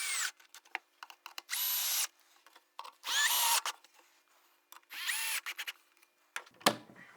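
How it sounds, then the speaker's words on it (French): A power drill drives screws into the wooden frame of a homemade dry toilet, in three or four loud whirring bursts of a second or so each, with short gaps and small knocks between them. "Donc on insère les vis, 4 par 25."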